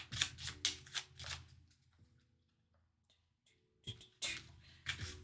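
Cards from the Astro Knights board game are shuffled by hand, quick bursts of riffling and snapping flicks, then a quiet pause before more close, crisp shuffling resumes.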